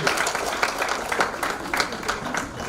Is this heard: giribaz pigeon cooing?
no